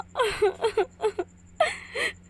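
A girl cries in short gasping sobs and whimpers, several broken bursts with a low steady hum underneath.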